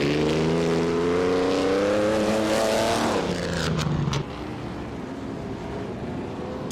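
A 1938 Mercedes-Benz W154 racing car engine in a racing video game, a loud, close, sustained high-pitched engine drone that rises steadily, then drops sharply as the car shifts or lifts off, continuing at a lower pitch.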